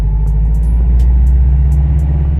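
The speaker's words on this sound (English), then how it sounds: "This sounds like it's really working the car" A manual car's engine straining in low gear before a shift, a loud, steady low drone close by with a constant heavy rumble and no talking.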